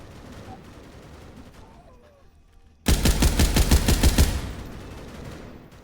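A rapid burst of automatic gunfire in a Roblox video game, loud and close, bursting in abruptly after a quiet stretch and running as a steady rattling string of shots before fading.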